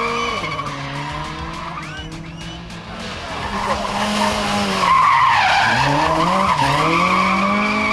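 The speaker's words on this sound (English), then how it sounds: "Andrew Jones made sure that there was slide race action during the event" A Ford Escort race car slides through a corner at a race meeting in Barbados, its engine revving and climbing in pitch while the tires squeal and skid loudly and continuously, close to the listener.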